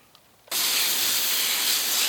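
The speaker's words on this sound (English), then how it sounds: "Just gonna spray off as needed." A sudden loud, steady hiss of pressurized water spraying a Porsche 991 GT3 during washing starts after a brief quiet moment and continues without a break.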